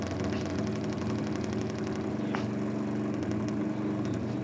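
Steady mid-pitched engine rumble of a Harley-Davidson drag racing bike idling at a nitro drag racing meet, continuous and fairly close, with a faint brief click partway through and no talk.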